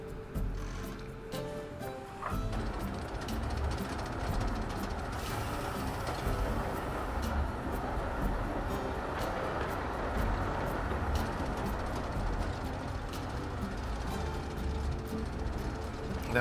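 Mine train roller coaster running in the video game Planet Coaster, a steady rumbling ride with rattling clatter that holds at an even level for the whole stretch, no talking over it.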